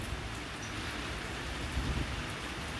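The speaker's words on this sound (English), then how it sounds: "Rain hitting the water," Steady rain falls on bayou water and a tin roof, a dense, even hiss of drops that goes on without pause and sits close and fairly loud.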